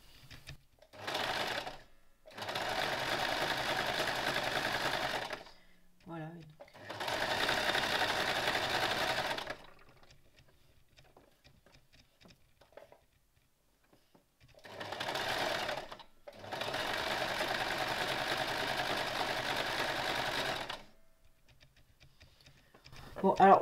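A sewing machine stitches jersey fabric for a dress, running in several long steady bursts of fast rhythmic whirring separated by quiet pauses, close and clear.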